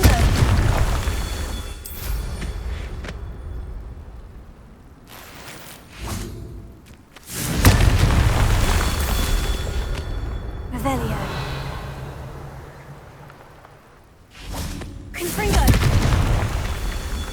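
Confringo fire-blast spells exploding in Hogwarts Legacy on PS5, heavy booming bursts recurring about three times with rumbling decay between, loud and up close over game ambience.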